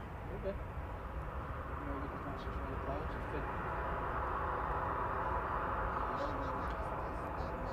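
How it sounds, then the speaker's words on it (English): A Ryanair jet bound for Dublin on its takeoff roll at Manchester Airport, a steady broad distant engine roar holding evenly throughout while a voice talks over it. "Ryanair to Dublin is on the roll"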